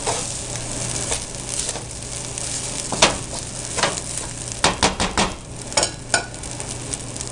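Rice stir-fried in a pan for Chinese fried rice, a steady sizzle under repeated scraping and stirring strokes, with several sharp clustered spatula hits near the end, close and fairly loud.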